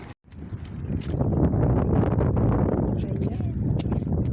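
Strong wind buffets the microphone in a loud, continuous roar with low rumbling gusts, and a voice speaks briefly underneath.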